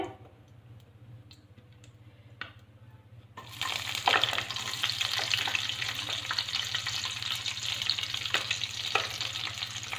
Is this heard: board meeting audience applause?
no